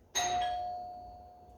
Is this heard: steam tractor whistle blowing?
no